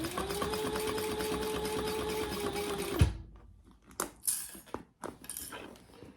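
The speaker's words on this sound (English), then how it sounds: "we're almost done with the top stitching" A sewing machine top-stitches a beginner fabric bag, running in a fast steady whir for about three seconds before stopping, followed by clinks and handling clatter of the bag and hardware.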